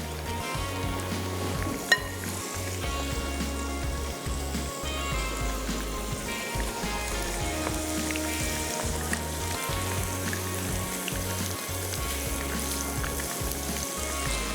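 Crunchy beans fry and sizzle steadily in a hot pan, a dense continuous crackle that stays loud and even throughout with no talking.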